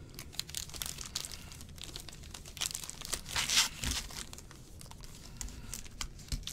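Close, quiet crinkling and rustling of foil-wrapped Panini Prizm basketball card packs being handled and shuffled, with soft irregular crackles and no talking.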